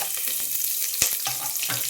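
Peanuts frying in hot oil as onions are tossed into the pan for a coconut pulao, giving a steady close sizzle with a sharper burst of crackle partway through and light scraping.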